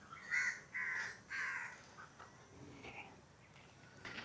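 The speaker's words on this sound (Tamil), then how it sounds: "ஸோ காக்கா வேறு நிறைய காக்கா நிற்கிது." Crows caw at Zoo Negara Malaysia, three loud harsh calls in quick succession, then fainter scattered caws and calls further off over quiet outdoor background.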